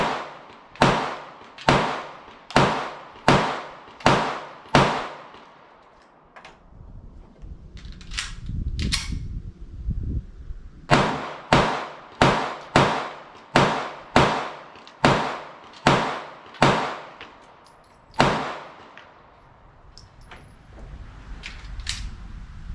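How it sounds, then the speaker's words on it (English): Gunshots from a S&W CSX subcompact 9mm pistol at an outdoor range: a rapid string of sharp, loud reports, a pause with rustling handling noise, then another evenly paced string of shots. "Now I pulled that last shot"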